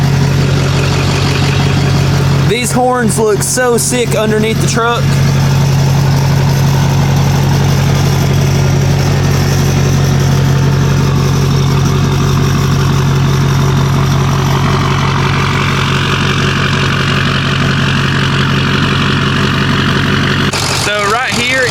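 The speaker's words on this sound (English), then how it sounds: "So the compressor is airing up the tank right now." An air compressor fills the train horn tank under a Ford F250 pickup, a steady continuous hum with a strong low drone running the whole time, while someone talks over it.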